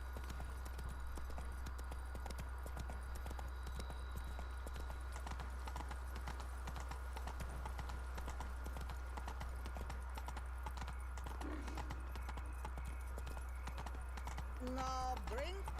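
A horse galloping in The Witcher 3: Blood and Wine, with steady hoofbeat clip-clop running throughout over a constant low game hum, a brief whinny near the end, and someone talking over it.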